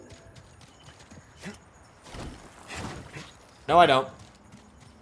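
Horse hooves clip-clop in the video game Star Wars Jedi: Survivor, a few soft, close, irregular steps among game sounds, with someone speaking briefly near the end.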